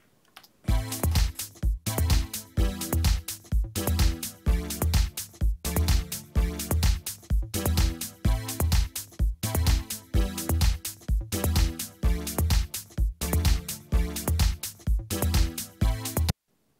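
A synthesizer plays a repeating chord progression in steady, evenly spaced pulses, loud and alone, looping several times before stopping.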